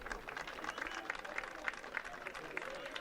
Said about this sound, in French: Et on applaudit un nouveau changement.